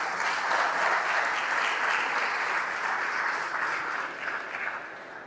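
Spectators at a squash league draft weekend applaud a player introduction, a steady wash of dense clapping from a crowd that tapers slightly toward the end, with no talking over it.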